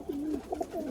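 Punjabi Malwai pigeons give soft, rolling coos in a short burst, close by and fairly quiet, with several overlapping throaty notes and no talk.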